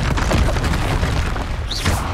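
Confringo spell blasts in the Hogwarts Legacy video game, a continuous booming rumble of explosive magic with a rising whistle near the end, loud and dense throughout.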